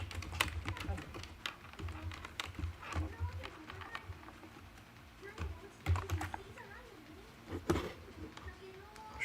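Rapid, uneven clicks of typing on a computer keyboard during a digital art practice session, close and fairly quiet, with short pauses between bursts and someone talking over it.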